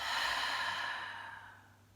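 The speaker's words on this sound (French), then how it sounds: "Expirez la bouche ouverte." A long breath pushed out through an open mouth during a French yoga session, a soft airy exhale that starts fairly strong and fades away over about two seconds, heard alone without speech.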